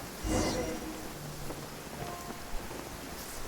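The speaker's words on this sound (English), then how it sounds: "Oh, it's raining again?" Steady rain falling in a video game, a broad continuous hiss with a low rumble like distant thunder and a brief louder burst near the start.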